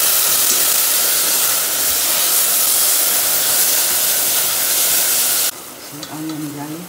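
Onion and garlic frying in a pan for caramelized quail's eggs, a loud steady sizzle and hiss with stirring that drops off abruptly near the end, where a voice briefly speaks.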